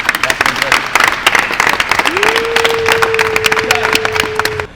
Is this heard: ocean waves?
no